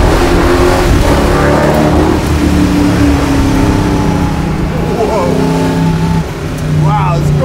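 A 440 cubic inch V8 Plymouth Barracuda muscle car engine roars steadily and loudly as it accelerates, with a voice briefly speaking over the drone near the end.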